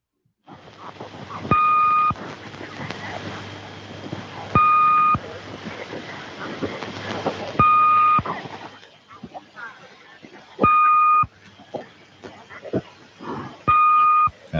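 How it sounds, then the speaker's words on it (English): Swedish Rhapsody numbers station picked up on shortwave radio in the 1980s: repeated two-tone beeps in steady pairs over a hissing, crackling background of static and noise. "This one was the Swedish Rhapsody number station."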